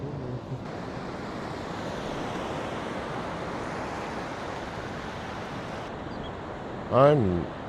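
Strong wind roars steadily along the coast at Port Aransas, Texas, a broad continuous rush with surf mixed in, buffeting the microphone, plus a brief louder burst near the end.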